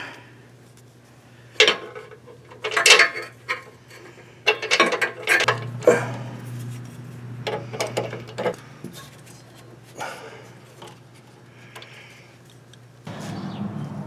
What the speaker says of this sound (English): Get the other bolts started before we get too tight on that one.